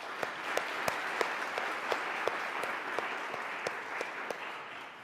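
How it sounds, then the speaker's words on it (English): Applause from an audience at a public event on uterine fibroids and legislative change, a dense steady wash of many hands clapping with a few sharper individual claps standing out, moderately distant and continuing evenly throughout. "So a big round of applause for them"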